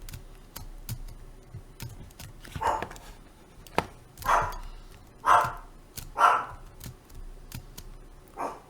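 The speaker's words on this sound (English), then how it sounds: "my dog is barking, sorry for that" A pet dog barks in a room several times, the sharp barks growing louder and more regular, with clicking keyboard taps scattered throughout.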